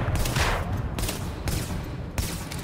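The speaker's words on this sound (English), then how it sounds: "You're trying to shoot me with a shotgun that far, my friend?" Shotgun blasts in Tom Clancy's The Division ring out in a rapid burst of heavy, booming shots with short gaps, loud and dense against a noisy battle background.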